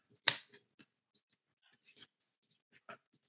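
Scissors snip a few times, with one sharp close cut followed by several softer, scattered clicks and snips in an otherwise quiet room.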